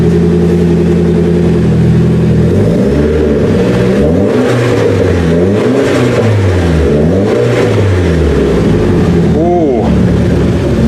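A 1994 Nissan Sil80 with a modified exhaust runs just after its first start, the engine revving up and down repeatedly in loud, wavering pulls over a rough idle, close by.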